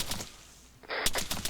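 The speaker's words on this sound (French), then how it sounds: "Ouais, c'était une grenade." Grenade explosion in the video game ArmA 3: a sudden loud broadband blast near the end of a quieter stretch, followed by continuing crackling bursts, with no talk over it.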